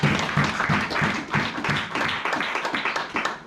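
Church congregation applauding after a scripture reading, dense rhythmic clapping from many hands that holds steady and close without a pause.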